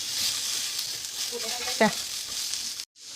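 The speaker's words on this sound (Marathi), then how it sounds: "आता आपण याच्यात एक टॅमॅटो देखील परतून घेणार आहोत" Tomato sautés in a pan with toasted cashews for a mushroom masala, giving a steady, close sizzle. A voice speaks briefly partway through, and the sound cuts out abruptly near the end.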